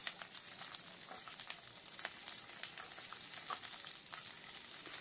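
Diced capsicum pieces fry lightly in hot oil in a kadai for restaurant-style kadai chicken, giving a steady close sizzle with scattered crackling pops and no voices over it.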